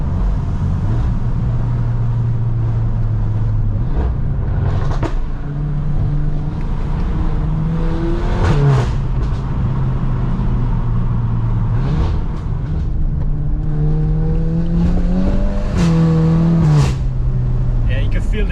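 A Stage 2 VW Golf R MK8 rated at 430PS drones and revs from inside the cabin while driving, engine pitch climbing and dropping through several gear changes over continuous road and wind rumble, loud and close.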